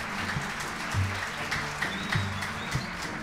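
An outdoor festival audience claps to welcome a folk poet on stage, scattered applause that sounds fairly distant and subdued under a low background hum.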